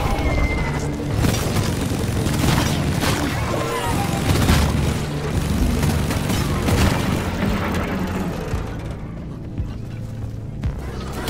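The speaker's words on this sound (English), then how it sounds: "Grenade. Run for cover!" Grenade blast in the Deep Rock Galactic video game, loud booming explosions and rumbling debris in a dense, continuous roar that fades near the end.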